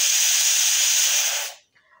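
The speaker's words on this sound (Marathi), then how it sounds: "हे बघा कुकरला चांगली वाफ बसलेली आहे" A pressure cooker on a Maharashtrian kitchen stove vents steam after cooking dal and rice. It gives a loud, steady, close hiss that suddenly cuts off, leaving faint quiet sounds.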